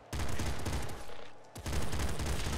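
Rapid assault-rifle fire from the video game Nuclear Throne rattles in dense, fast bursts, with a short lull midway before the shooting resumes just as fiercely.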